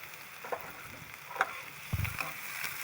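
Chopped onions frying in a pan, a soft steady sizzle broken by a few stirring scrapes and light clatters, fairly quiet and close.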